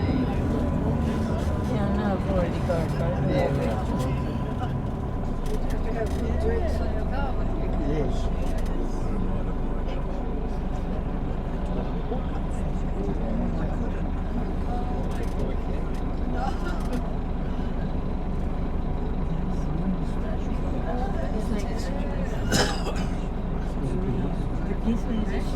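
A tour vehicle drives along a city street past Baldwin Street in Dunedin, New Zealand, its engine and road rumble steady throughout while a guide talks over it.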